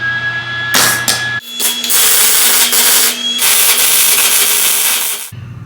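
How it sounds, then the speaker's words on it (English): Pins are welded onto the hood of a 1976 GMC in a garage: loud, crackling buzzes in sustained bursts with short gaps, close by over a steady machine hum. "I'm gonna finish welding these pins on."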